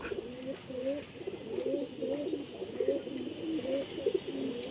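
Pigeons coo steadily in low, throaty rolling phrases, one call after another, with a soft background hiss.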